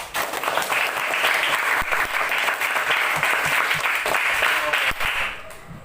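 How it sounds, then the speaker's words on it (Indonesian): Classroom audience applauding discussion groups one through five, dense lively clapping with distinct individual claps, steady for several seconds before tapering off at the end. "mari kita beri tepuk tangan yang meriah untuk kelompok 1 sampai kelompok 5"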